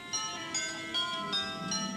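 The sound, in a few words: doorbell ringing, storybook sound effect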